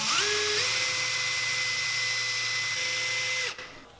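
A power tool polishing a copper jerkbait lure part, a loud high-pitched whine that rises as it spins up, holds steady, dips slightly, then cuts off abruptly near the end.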